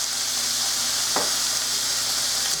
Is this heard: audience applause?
no